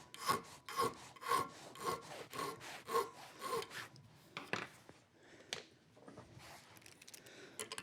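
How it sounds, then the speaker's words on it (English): Metal file rasping burrs off the outside of a metal bicycle frame part, a steady series of close, even back-and-forth strokes for several seconds, then a few scattered scrapes and light handling sounds, with no talking. "take off the burrs a little bit on the outside"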